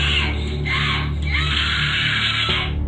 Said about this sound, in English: She just screaming in rage at the top of her lungs.